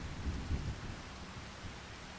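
Steady rain pours down with low rumbles of thunder in the Farming Simulator 25 countryside, a soft continuous wash with a heavier roll near the start and no talk over it.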